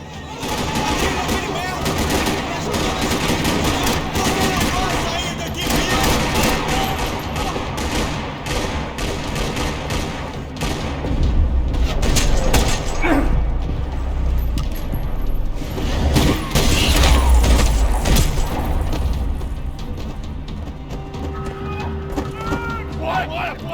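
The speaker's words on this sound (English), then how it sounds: "Another parking lot rattling with gunfire." Dense bursts of gunfire in the video game Max Payne 3 rattle almost continuously in a parking lot, rapid shots and volleys layered over loud action noise and voices.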